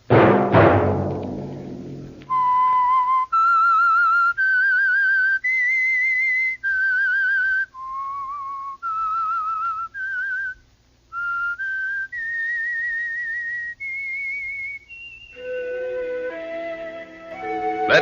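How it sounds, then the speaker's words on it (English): Whistled theme of The Whistler radio show, a 1946 broadcast: a lone, clear whistled melody of sustained notes that climb and fall in distinct phrases, with an orchestra swelling in at the end. "Let that whistle be your signal for The Whistler"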